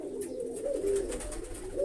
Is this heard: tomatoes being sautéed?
no